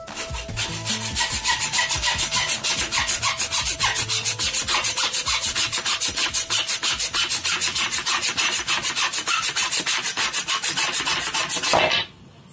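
A hacksaw blade cuts through a piece of wood in steady rapid back-and-forth strokes, a loud rhythmic rasp that runs continuously before stopping abruptly.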